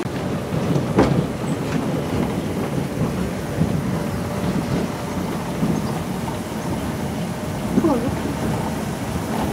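A train runs along a museum railway track at Beaulieu, a continuous rumbling roll with faint clicks and clatter, close and fairly loud throughout.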